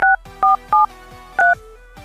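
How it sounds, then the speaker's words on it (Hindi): A phone keypad sounds four crisp dual-tone beeps in an uneven rhythm as a phone number is dialed, each beep short and loud, with faint clicks between them. "ये मैंने अपना नंबर डायल कर दिया, मैं कॉल करता हूँ।"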